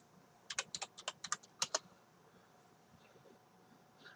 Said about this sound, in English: you can't type the same words I'm typing